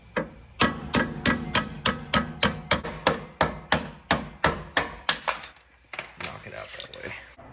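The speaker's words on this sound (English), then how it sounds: "Just gonna fucking hammer it out a little bit" A hammer strikes metal in a steady rhythm, about fifteen sharp ringing blows, while knocking out a suspension part on an Infiniti G35 during a coilover install, followed by some clatter and handling.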